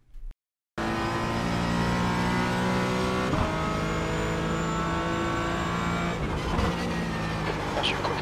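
GT4 race car in iRacing at Barber Motorsports Park lapping with a loud, continuous engine note that rises and falls through gear changes and revs, after a brief silent gap at the start.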